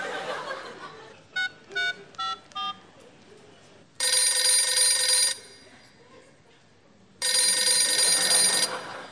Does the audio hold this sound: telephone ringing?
yes